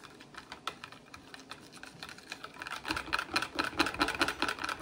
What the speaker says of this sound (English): And I think I'll whisk it.